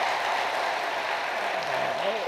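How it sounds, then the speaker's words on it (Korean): Congregation in a Korean church applauding to give thanks and glory to God during a Sunday service, a soft, even wash of clapping filling the room, with a faint voice rising near the end. "하나님께 감사와 영광의 박수를 올려드리겠습니다"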